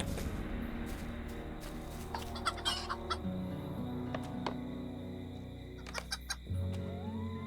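Chickens cluck and call repeatedly in the Lord of the Rings Online video game, set during the evacuation of Edoras, over a steady ambient background of in-game sound.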